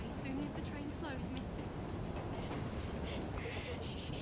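A moving train in the video game Assassin's Creed Syndicate rumbles steadily throughout, with a constant rolling noise and faint clatter under a game character's speech.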